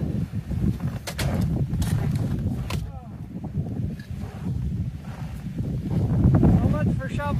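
Great Plains blizzard with winds over 30 mph and about 40 below wind chill, a loud steady roar buffeting the microphone throughout, swelling near the end, with a voice speaking faintly underneath.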